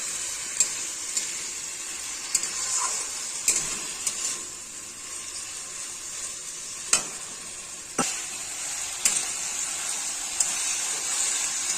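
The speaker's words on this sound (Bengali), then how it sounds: "আলু আর ঢেঁড়সের মধ্যে মানে সুন্দর করে লেগে যায়। তাহলে সবজিটা সাঁতলাতে ভালো হবে।" Potatoes and okra sauté in a pan with a steady sizzling hiss, broken by occasional sharp clicks and scrapes of a stirring spoon.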